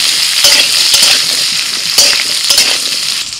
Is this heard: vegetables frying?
yes